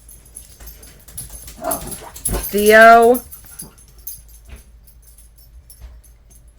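Two excited dogs whimpering and yipping as they start playing, a rising whiny whimper close by among other indoor noises, with a person speaking briefly.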